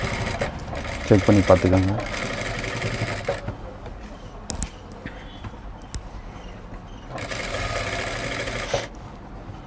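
A sewing machine stitches piping onto a blouse in two running bursts of rapid mechanical whirring, one early and one near the end, with a woman's speech heard around them.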